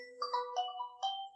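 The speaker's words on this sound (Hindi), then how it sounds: "तो इस तरीके से आप वॉच पे जो है ना रिंगटोन प्ले कर सकते हैं" A Realme Watch 3 Pro smartwatch plays a short melodic ringtone through its small speaker, a quick run of bright synthetic notes heard clearly and alone.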